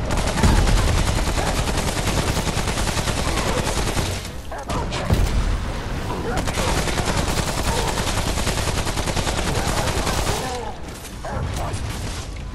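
Sustained rapid gunfire in the video game Remnant: near-continuous automatic bursts with a few brief gaps and some booms, loud, mixed with players talking.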